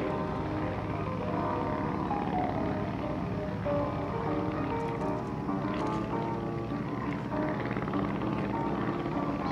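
A loud, steady propeller engine drone hums continuously as a Royal Aircraft Factory SE-5A vintage biplane flies close by at an airshow, with a constant mechanical roar throughout.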